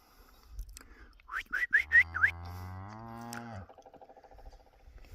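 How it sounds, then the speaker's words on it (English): A cow in an outdoor pasture gives a single drawn-out moo, rising then holding steady for a couple of seconds, fairly close, preceded by a few short whistle-like calls. "I think that probably is one of our cows."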